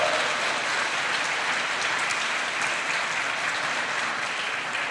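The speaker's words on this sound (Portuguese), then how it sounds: "Aplauda o Senhor." A church congregation claps and applauds in a dense, sustained wash of hand claps, loud and even throughout with no pauses.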